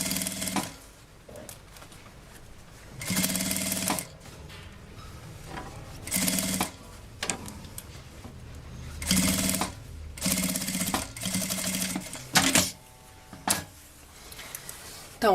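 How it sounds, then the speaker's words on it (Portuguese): Sewing machine stitching a seam on a handmade bag built from milk cartons, running in repeated bursts of a few seconds each, with someone talking quietly between and over the runs. "E aí, a gente vem passando a costura aqui."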